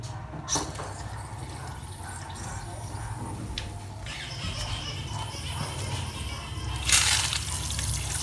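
A garden hose runs water onto a motorbike engine while it is cleaned, giving a steady close hiss and splatter with a few sharper splashes, under someone speaking.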